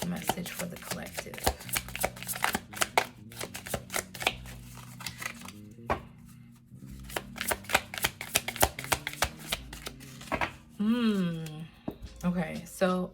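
A deck of easy-slipping tarot-style cards being shuffled repeatedly, with crisp riffling bursts and dense clicking flutters up close, broken by brief pauses and accompanied by someone speaking intermittently.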